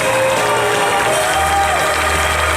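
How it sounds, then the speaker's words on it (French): Audience applause for a stage set at a French-speaking show, steady dense clapping throughout, loud and continuous with a low hum and a faint whistle-like tone over it. "On va l'applaudir bien fort."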